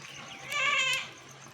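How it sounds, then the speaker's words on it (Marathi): Goats bleat once in a single drawn-out, wavering cry at close range, with no talking alongside it. "शेळ्या आहेत"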